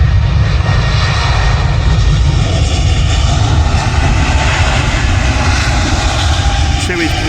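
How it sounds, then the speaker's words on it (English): Air France airliner taking off at Manchester Airport, a loud, steady roar of jet engines with heavy low rumble, heard from a nearby viewing area with someone talking over it. "How about Air France taking off back to Charles de Gaulle."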